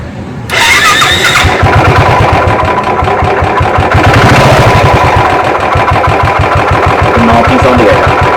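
Royal Enfield motorcycle engine cranking into life, then idling loudly and close with a steady rapid thump and a metallic knocking from a worn crank bearing, continuing to the end with no talk.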